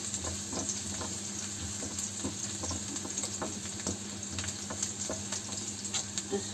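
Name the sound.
beef curry ingredients frying, garlic added to pan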